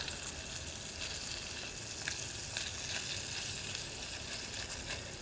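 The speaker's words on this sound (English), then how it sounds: "I've never had bacon stick to a frying pan before, but this titanium, it does that." Bacon sizzles and crackles steadily in a hot titanium pan, a constant frying hiss with small pops and no talking.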